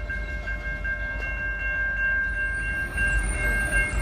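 A Norfolk Southern train passes with a continuous heavy rumble of rolling cars and a sustained tonal horn-like whine over it, loud and steady throughout.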